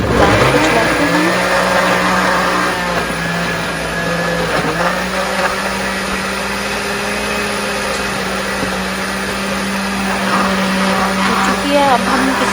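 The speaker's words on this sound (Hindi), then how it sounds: "अब ब्लेंड को चलाते हैं।" A blender grinding coriander and mint chutney runs loud and steady at close range, a continuous whirring motor drone that shifts pitch slightly as the blades work through the herbs.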